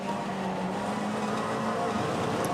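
Classic Mini race car engine at Goodwood Revival pulling in second gear after a downshift, a steady loud onboard drone with a low throbbing note, unbroken throughout.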